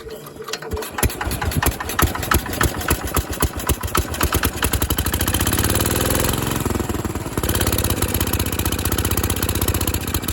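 A 1968 Case 155 garden tractor engine cranks over several times, then catches and settles into a steady, loud, uneven idle up close, with no speech over it.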